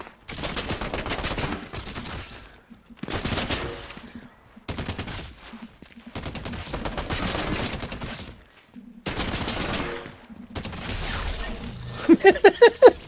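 An automated turret in Fortnite fires in long sustained bursts of rapid gunfire separated by brief silences, loud and close, with a quick metallic clatter near the end and no talking.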